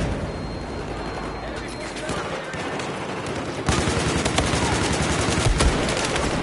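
Rapid video game gunfire, with bursts of automatic shots crackling under someone talking, growing louder and denser partway through.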